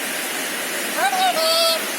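Heavy rain falls outside as a loud, steady hiss, with a brief tonal whistle from a parrot indoors rising over it near the middle.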